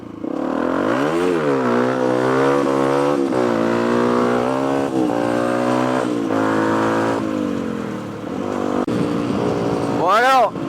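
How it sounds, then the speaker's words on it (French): A Fantic 125 motorcycle engine revving up and down in steady waves, its pitch rising and falling as the rider shifts, loud and close, with someone talking over it. "Et j'espère on n'entend pas trop la moto."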